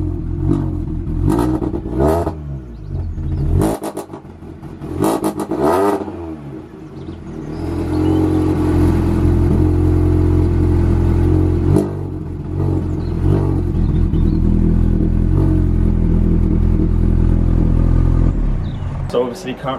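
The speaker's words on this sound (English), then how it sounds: "but I will give you a start-up clip." A 2002 Mini Cooper S track car fitted with a decat exhaust cranks over with a few sharp bursts, then settles into a loud, steady, lumpy idle close to the microphone.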